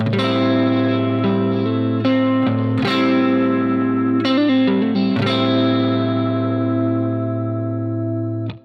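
Electric guitar chords with distortion and chorus, sustained and ringing, with a few added notes shifting the harmony; played alone, steady and loud.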